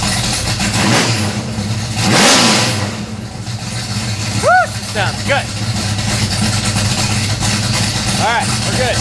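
A 455 Pontiac LeMans V8 revs loudly up close, swelling in one big throttle blip over a lumpy idle, with brief squeaky sounds and voices speaking in the background.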